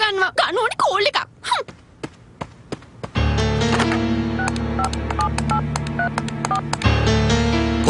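A telephone keypad dialing in a Sinhala-dubbed cartoon, a rapid run of bright electronic beeps followed by a long steady dial tone, preceded by someone speaking and a few soft taps.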